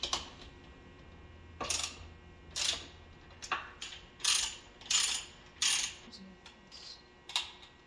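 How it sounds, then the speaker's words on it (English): Bolts being loosened with a ratcheting wrench to unbolt a hinge on a homemade sanding machine: a string of sharp clicking ratchet bursts, about ten separate bursts, close and fairly clear, with no talk. "I'm going to unbolt this hinge."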